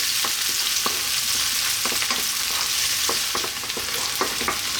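Garlic frying in a pan over lively, above-medium heat makes a close, even sizzle with frequent small crackles and pops, no talking.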